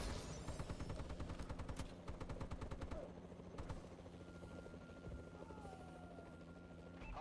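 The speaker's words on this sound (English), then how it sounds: "Warbird support requested." Warbird gunship support in Call of Duty Advanced Warfare multiplayer: rotor-like aircraft drone under bursts of rapid machine-gun fire, the rattling volleys loud at first, then thinning into scattered shots over a steady engine hum.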